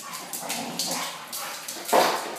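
Puppies playing and wrestling together, giving short yips, whimpers and playful barks up close in a lively, overlapping scramble.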